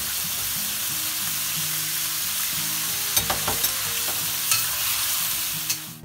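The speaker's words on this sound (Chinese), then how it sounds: "下入姜片，下入鸡肉， 煸炒的时候加入料酒和白胡椒粉" Chicken pieces with ginger slices stir-fried in hot oil with cooking wine and white pepper, a steady close sizzle with scraping stirs of a spatula against the wok and a few sharper clinks.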